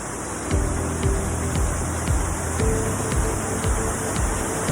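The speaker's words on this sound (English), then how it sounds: "it is such a beautiful waterfall" Oxley Falls waterfall roaring steadily in the mountains, a loud continuous wash of water with faint periodic low thumps and swells beneath it, no voices.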